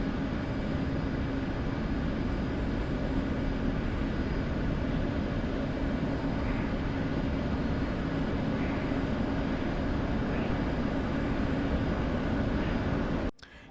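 An F/A-18C jet in the DCS flight simulator game makes a loud, constant engine roar and broadband rush that holds steady for the whole stretch, then cuts off abruptly at the end.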